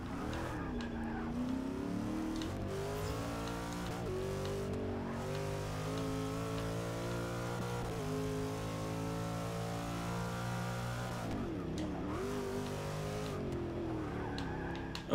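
A Chevrolet Corvette C7.R race car in Forza Motorsport 6 revs high and steady, with pitch sweeping down and up as it brakes hard and accelerates again, engine sound close and continuous with no talking.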